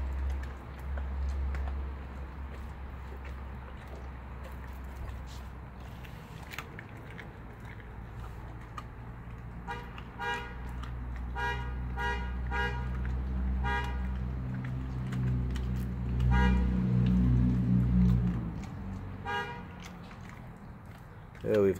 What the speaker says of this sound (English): neighbor out front honking their horn repetitively